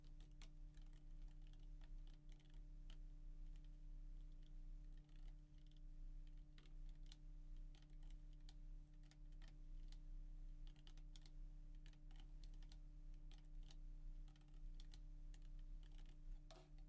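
Keys tapping on a computer keyboard while code for an HTML and CSS website is entered, a steady run of quiet close clicks over a low electrical hum, with no talking.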